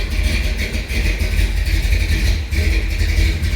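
A car engine idles at about 600 RPM after a cold start, a loud, steady, low rumble with a constant even pulse and a faint higher whine on top, running alone.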